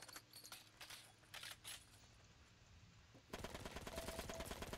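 An MP40 submachine gun fires in a video game: several short bursts of rapid shots, then a longer, louder stretch of continuous gunfire near the end, with no talking.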